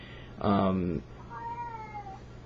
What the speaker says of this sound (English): my cat is freaking out right now